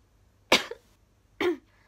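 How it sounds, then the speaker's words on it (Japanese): Two distinct coughs, close and fairly loud, separated by about a second of quiet. "なんか咳がねちょっとまだ出るんだけど"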